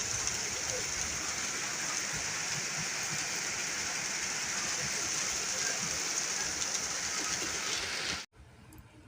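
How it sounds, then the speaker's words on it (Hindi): Heavy rain pours down in a steady, dense hiss that stays constant and loud before cutting off abruptly near the end. "कितनी ज़ोर से बारिश होती थी हमारे तरफ।"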